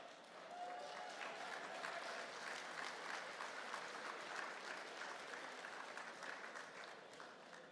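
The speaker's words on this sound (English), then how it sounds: "And, yes, big round of applause." A large audience at an apprenticeship graduation ceremony applauds a sheet metal program graduate, with dense, steady clapping that holds at an even level for several seconds before tapering slightly at the end, with no talking over it.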